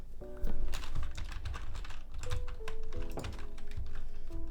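Rapid typing on a computer keyboard, entering a Minecraft world seed, with dense, steady key clicks over quiet background game music and no talking.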